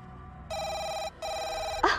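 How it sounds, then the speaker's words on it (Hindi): An electronic telephone ring sounds indoors in two steady tonal bursts with a short gap between them, followed by a brief clatter, with no talking. "मुबारकी के फोन आने लगे।"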